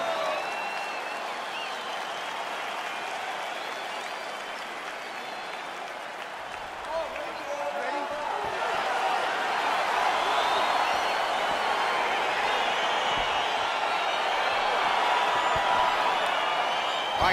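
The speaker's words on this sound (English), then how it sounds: "Crowd getting excited as this fight gets underway" Arena crowd in the EA Sports UFC 4 video game cheering and applauding as a fight begins, a steady roar that swells louder halfway through, with a commentator talking over it.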